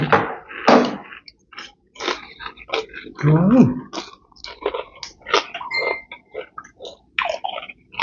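Crispy fried shallots and fresh oysters with spicy chili dipping sauce are bitten and chewed up close, with irregular crunches and wet squishy mouth sounds spaced by brief pauses.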